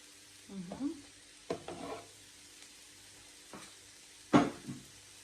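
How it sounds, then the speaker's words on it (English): Onions tossed into hot oil for coconut rice, giving a quiet background hiss with several brief bursts of stirring and sizzling, the loudest near the end. "our oil is slightly hot. I could not wait. We will just add our onions in there."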